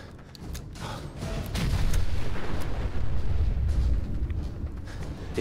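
A heavy boom from an explosion in the PC game Fallout 4 (Far Harbor DLC), with a deep low rumble swelling at about 1.5 seconds and rolling on under sharper crackling hits.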